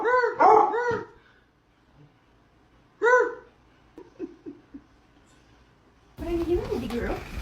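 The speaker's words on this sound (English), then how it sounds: "There's normal dogs, and then there's Bella." Dog barking in loud, close, high yelping bursts: a cluster at the start, another about three seconds later, then softer whimpering yips, ending under a burst of people's voices.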